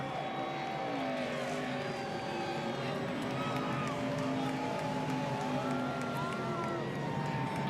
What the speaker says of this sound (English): these fans are going to appreciate what he did as you hear them on their feet cheering for this youngster's first victory of the year